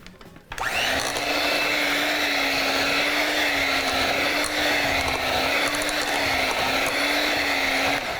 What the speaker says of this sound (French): je vais mélanger ça avec ma petite machine ici